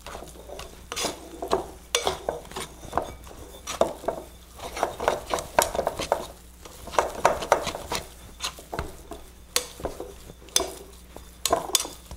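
A wet, shaggy dough of flour and water being mixed in a bowl, with a continuous run of irregular scraping, clacking utensil strokes against the bowl, fairly close and busy throughout.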